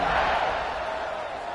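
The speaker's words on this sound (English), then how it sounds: "this crowd is feeling themselves after that last drive." A stadium crowd roars steadily in an NCAA football video game, Arkansas against Auburn, as the kickoff unit takes the field: a dense, loud, continuous wash of cheering that slowly eases, with no clear voices on top.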